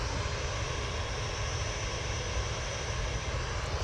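EasyJet airliner departing Manchester for Oslo, a short burst of continuous engine roar, fairly faint and even with a low rumble underneath.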